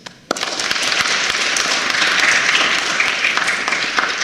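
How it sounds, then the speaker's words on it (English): A crowd breaks into sustained, dense applause that starts abruptly and continues steadily, many hands clapping at once in a large room at a national youth parliamentary debate. "a round of applause goes out to you"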